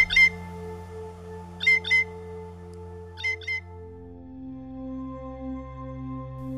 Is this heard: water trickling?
no